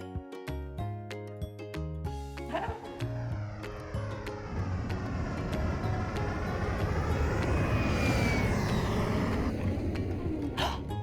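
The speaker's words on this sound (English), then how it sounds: "The airplane flew outside the workshop." A toy airplane on a test flight drones past with a buzzing engine that swells steadily louder and sweeps in pitch, coming in after a short stretch of plucky musical notes.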